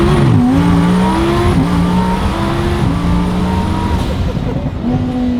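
A twin-turbo Lamborghini Huracan accelerates hard and loud, its engine note climbing in repeated rising sweeps broken by quick gear changes, with turbo whine above the roar.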